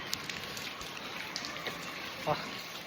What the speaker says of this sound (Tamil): செம்ம மழை ஓகேங்களா